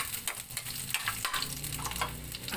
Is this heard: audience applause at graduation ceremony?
no